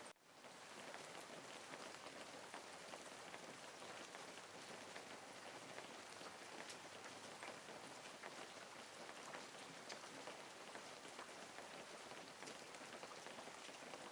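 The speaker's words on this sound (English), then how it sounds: "listen to the rain" Steady, dense rainfall patters on surfaces without a break, a soft, even hiss that holds at the same level throughout with no voices or thunder.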